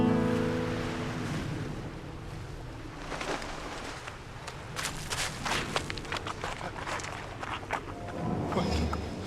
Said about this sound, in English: the harumphing sound of the waves started to sound like a jet